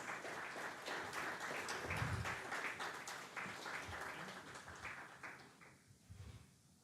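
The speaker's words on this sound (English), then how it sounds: "welcome him with a huge round of applause" Audience applause welcoming a company founder onto the stage at a bell-opening ceremony, a moderate, uneven patter of clapping that thins toward the end.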